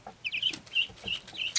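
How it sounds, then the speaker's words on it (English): Young chicks being raised indoors give excited, rapid clucks and short high chirps in quick, uneven bursts, close by. "Got the birds all excited."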